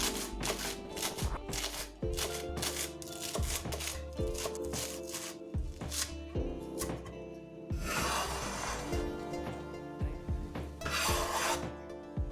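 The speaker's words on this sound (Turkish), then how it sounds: "Bir orta boy kıvırcık salatayı ince şeritler halinde doğruyoruz." A knife chops curly lettuce into thin strips on a cutting board in a kitchen, with rapid close rhythmic cuts in bursts and short pauses between, no talking.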